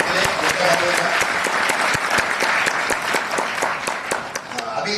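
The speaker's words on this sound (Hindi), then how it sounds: "एक बार जोरदार ताली हो जाते हैं" Loud, sustained applause from an audience at a motivational program in Rajkot, with many individual claps cutting through a dense wash of clapping that runs steadily for the whole stretch, tapering slightly near the end.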